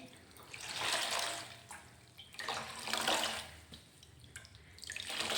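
Running tap water pours in three broad surges over a cloth piece cut from an old blanket, soaking it in a sink while making a homemade wiper for kitchen cleaning; steady splashing rises and falls with no talk.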